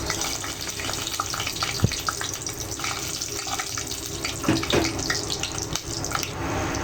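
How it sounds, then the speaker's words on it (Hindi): Whole garam masala spices sizzle in hot oil for a chicken curry, a steady soft crackle and hiss with a couple of sharp clinks from a utensil. "अब इसमें सबसे पहले हम गरम मसाले डालेंगे।"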